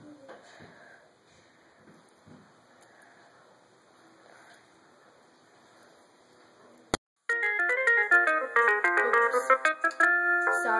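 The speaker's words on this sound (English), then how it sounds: "our ringtone is Plants vs. Zombies when you get a plant at the end" A phone's text alert plays the Plants vs. Zombies plant-reward jingle, a loud bright melodic burst that bursts in suddenly after a stretch of quiet room tone.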